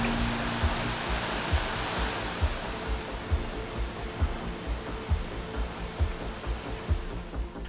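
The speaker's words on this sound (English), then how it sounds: "At the heart of the park, a waterfall." Steady, full rushing roar of a park waterfall in Antalya, Turkey, constant and close, with no voices.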